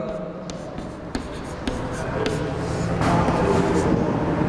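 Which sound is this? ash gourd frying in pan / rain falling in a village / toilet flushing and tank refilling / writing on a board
writing on a board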